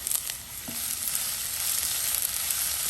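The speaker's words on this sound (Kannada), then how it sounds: "ಹಾಗೆ ನಾನು 1 ಕಪ್ ಅಷ್ಟು ಕ್ಯಾಬೇಜನ್ನು ಹಾಕ್ತಾ ಇದ್ದೀನಿ." Cabbage and vegetables for spring rolls fry in a hot pan with a loud, continuous hissing sizzle, joined early by a few faint clinks of stirring.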